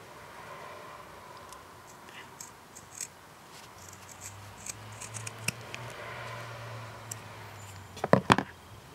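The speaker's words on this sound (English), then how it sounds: "you're going to cut a small semicircle out of the side" Scissors cut a small semicircle out of fabric, quiet snips and rustling growing sharper toward the end, with a brief low hum in the middle and no talking.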